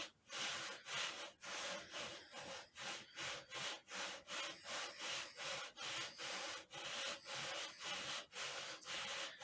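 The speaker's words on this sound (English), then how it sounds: "all we're doing is really just sanding down the inside of these rifle rings" Rhythmic back-and-forth sanding strokes lapping the inside of rifle scope rings on a Ruger 10/22, close and steady, about two per second, scratchy and dry, with no voices.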